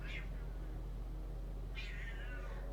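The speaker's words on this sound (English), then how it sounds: "Hi, kitty. I hear you." A cat meows twice, a short meow at the start and a longer drawn-out one near the end, over a steady low hum.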